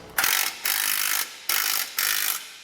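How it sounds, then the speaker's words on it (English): A socket ratchet tightens the bolts of a Roadmaster Direct-Connect base plate on a 2022 Jeep, giving four close, loud bursts of fast clicking. Short pauses separate the bursts as the handle swings back and forth. "you can use a 19 or 3/4 inch socket to tighten up the rest of them here"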